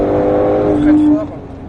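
A 2021 Mustang GT500 braking hard on the Folembray race circuit, the engine note dropping from a loud droning roar to a lower rumble as speed falls, close and dominant.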